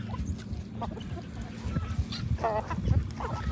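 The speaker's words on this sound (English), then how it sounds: "You're a beautiful chicken." A backyard chicken clucks and squawks in several short, close bursts, with a few honking calls from nearby fowl.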